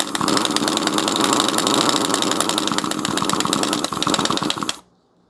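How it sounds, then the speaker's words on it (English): A power tool drives a bolt into the engine of a 2008–2017 Audi Q5 being repaired for low oil pressure, a steady loud buzzing whir running for about five seconds before cutting off abruptly. "drive that bolt"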